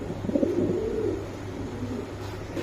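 Tiger Budapest pigeons coo softly up close, a low rolling murmur with a few louder throaty pulses at the start, with no voices over it.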